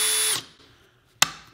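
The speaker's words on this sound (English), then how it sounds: "the lighter I pull the trigger, the slower the chuck will spin" A cordless drill's motor whirs in a short, loud burst, then winds down and stops, leaving near silence broken by one sharp click.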